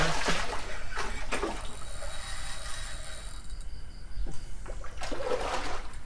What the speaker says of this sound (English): these barramundi are good fun, aren't they? Come up to the surface and do all this jumping